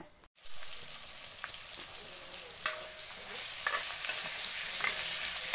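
Potato pieces fry in hot oil in a kadai used for cooking goat meat, a steady bright sizzle with a few sharp crackles and spatula scrapes, close and fairly quiet, with no talking.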